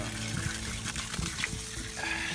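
Garden hose running water for brewing, a steady faint splashing stream with a few small clunks, quiet and continuous throughout.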